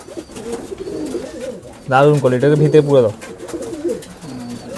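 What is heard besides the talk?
pigeons cooing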